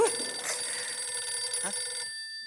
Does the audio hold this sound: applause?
no